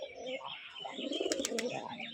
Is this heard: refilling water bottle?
no